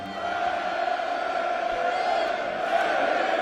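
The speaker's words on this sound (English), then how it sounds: "Crowd in good voice here." A darts crowd at the PDC International Darts Open roars and chants continuously, a dense, loud wall of voices that holds steady throughout.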